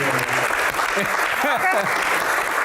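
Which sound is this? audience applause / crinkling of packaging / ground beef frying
audience applause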